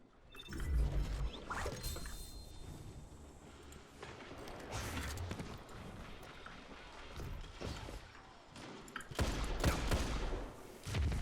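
Several bursts of gunfire from a three-man firing line in a video game, coming in irregular volleys with loud spikes near the start and end, mixed with game sound effects.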